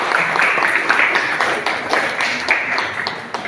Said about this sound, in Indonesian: Kasih tepuk tangan untuk Yara.